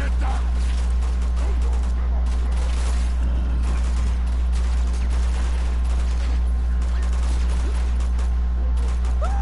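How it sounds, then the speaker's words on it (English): Gunfire in the Uncharted 2 action game: scattered close shots and bursts over a steady low hum and game ambience, with a voice speaking over it throughout. "Who's shooting at you and why?"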